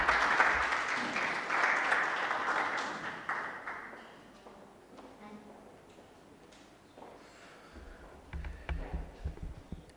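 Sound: audience applause at a workshop

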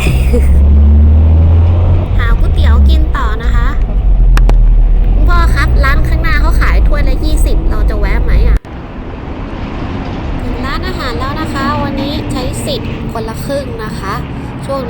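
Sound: Mercedes-Benz 190D classic car making a slow U-turn

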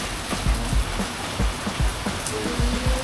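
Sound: heavy rain

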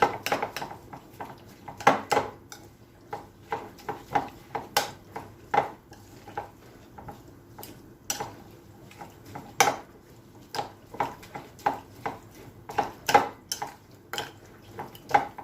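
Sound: stirring dried thyme into a mixture in a bowl

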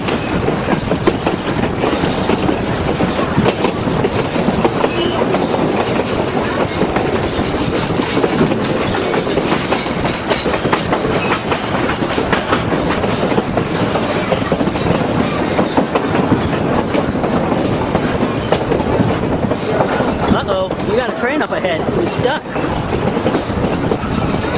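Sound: Durango and Silverton railroad train running on rails

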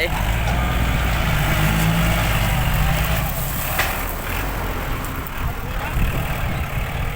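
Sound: tractor engine running

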